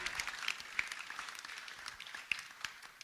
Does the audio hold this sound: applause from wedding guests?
yes